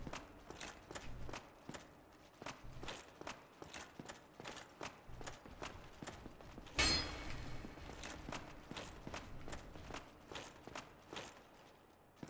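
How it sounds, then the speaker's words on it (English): Footsteps in Dark Souls sound as regular, faint thuds spaced through a quiet stretch, with one sharper, louder impact midway. "I'm definitely hearing footsteps."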